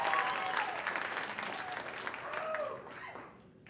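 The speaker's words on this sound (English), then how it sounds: "can we please give our final round of applause for the night for Mini City?" An audience at a startup showcase event in Atlanta applauds steadily, a dense wash of clapping with faint voices mixed in that gradually fades out.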